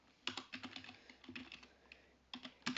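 Commands being typed on a computer keyboard, a quick irregular patter of close, crisp key taps in short bursts with brief pauses between them.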